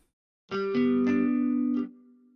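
An Electric Sunburst Deluxe virtual guitar on the Clean R&B preset plays a short clean phrase of a few plucked notes. The notes are clear and sustained, with no voices, and they end with a soft decay.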